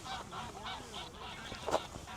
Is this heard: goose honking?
yes